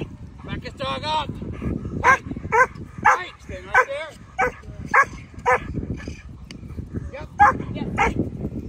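German Shepherd dog barking repeatedly in short loud bursts during protection and grip drills, with a handler talking and calling out over the barks.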